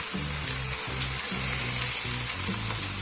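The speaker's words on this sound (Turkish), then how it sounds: "Şöyle de karıştırıyorum" Lamb ribs sizzle steadily in a hot pan with no oil added yet, while a utensil stirs them in regular scraping strokes roughly twice a second, close and loud.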